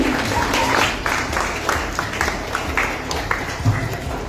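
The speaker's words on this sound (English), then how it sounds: "So can you guys all clap for yourselves?" Students at a school results announcement clap for themselves, a moderately loud burst of group clapping that thins into scattered, uneven claps.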